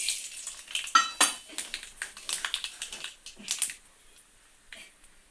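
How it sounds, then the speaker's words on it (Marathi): Mustard seeds dropped into hot oil crackle and spatter in quick irregular bursts with light utensil clinks, close up, then settle into fainter sizzling toward the end. "आता तेल तापलं आहे. मी त्यात घालत आहे मोहरी"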